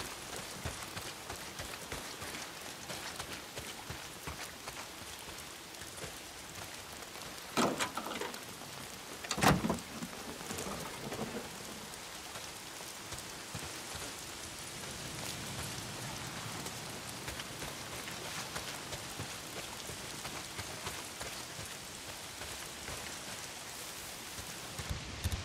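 Steady rain pours in the Days Gone video game, a constant hiss on surfaces throughout, broken by a couple of sharp crackling thunder bursts near the middle; no one speaks.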